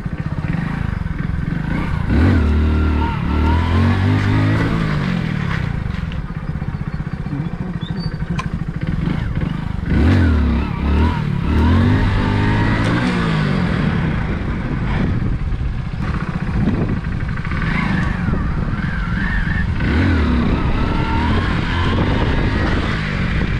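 A Splendor motorcycle revs repeatedly during stunt practice, its engine loud and close, rising and falling in uneven bursts over steady idling clatter.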